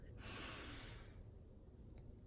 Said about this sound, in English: you take a deep breath in